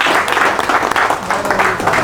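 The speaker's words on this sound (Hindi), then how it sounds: "चलिए इनके लिए तालियां हो जाए एक बार" An audience at a pharmacist association election meeting applauds, a dense, close, sustained burst of clapping from many hands lasting about two seconds.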